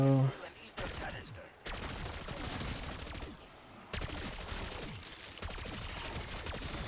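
Rapid automatic gunfire from a hard-recoiling gun in Black Ops 6 Zombies rattles in long sustained bursts separated by short pauses, loud and close.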